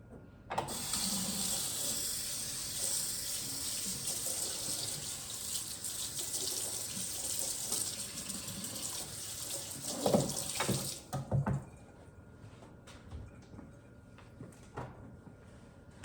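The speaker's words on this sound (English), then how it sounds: "we're just gonna water it in and watch it grow" Water running steadily from a tap or hose to water in freshly planted amaryllis and ranunculus, a constant hiss for about ten seconds with a few clunks before it shuts off, leaving quiet.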